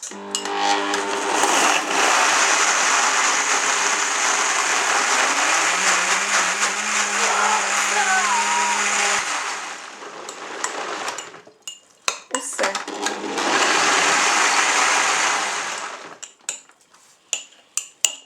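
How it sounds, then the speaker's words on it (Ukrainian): A blender whirs loudly for several seconds making a strawberry sambuc dessert, stops briefly, then runs again in a shorter burst, with clattering and clinking around it. "Тепер включаємо блендер."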